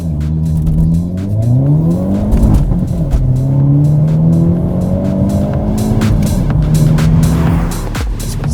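A 2022 Hyundai Elantra N engine revs hard and climbs through the gears as the car launches from a stop, loud and close, with a brief tire chirp.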